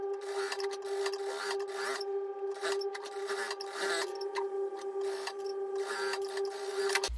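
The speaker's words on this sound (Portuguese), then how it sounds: "eu só vou vir batendo a costura" A sewing machine runs steadily while stitching the double button placket of a shirt, a continuous close mechanical whir with a sharp tonal hum and short rhythmic bursts, heard alone with no talk.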